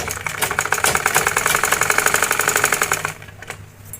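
Sewing machine stitching fabric while making a beaded blouse, a fast, steady mechanical rattle running close and loud for about three seconds before stopping, followed by a couple of faint handling clicks.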